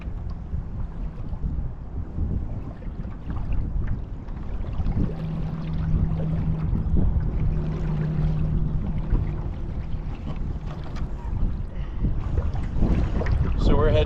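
A pedal kayak drifts downwind on Crescent Lake while trout fishing, with no pedaling. Water laps and wind buffets the microphone, and a faint low drone carries over the steady noise.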